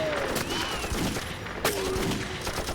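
Gunfire in an action movie scene, a sharp crack of a shot in the middle amid sweeping tonal sounds and a busy mix.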